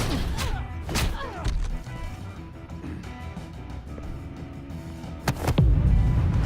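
Pool stick snapping during a bar fight in Batman: The Telltale Series, a few sharp whacks and thuds at the start, then a heavy crash and rumbling impact near the end amid fight sounds.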